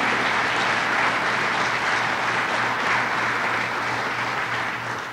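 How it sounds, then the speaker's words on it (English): Steady round of applause from an audience at a governor's announcement event in Rochester, New York, dense and sustained for several seconds before tapering slightly at the end. "Let's give Carl a round of applause for getting the hug out of Bob Duffy."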